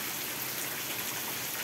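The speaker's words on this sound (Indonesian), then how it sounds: "hujan deras" Heavy rain pours down steadily at night, a dense, even hiss of drops hitting surfaces with no pauses and no voices.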